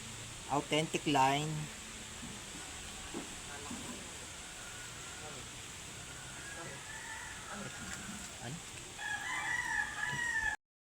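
A golden monkey gamefowl rooster from Pauwin, Cabinti, Laguna gives one loud, close crow near the start, followed by a long stretch of quieter ambient sound with a faint rise near the end.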